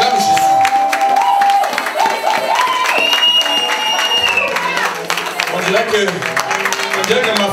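A church congregation claps and cheers for Jesus, a dense, steady wash of applause and voices throughout. A preacher's voice and music carry over the top.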